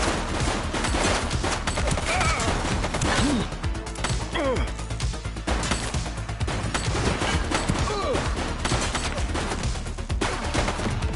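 Gunfire in the police game The Precinct, a dense, loud barrage of shots and crashing impacts running continuously over the whole stretch, with brief shouted voices in the mix.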